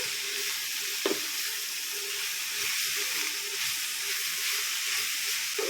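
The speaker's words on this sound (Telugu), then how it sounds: "ఇలా మొత్తం వేసుకొని ఒక్కసారి కలుపుకుందాం." Amaranth leaf curry frying in a pan and being stirred, a steady close sizzle with a sharp knock of the spoon against the pan early on and soft scraping throughout.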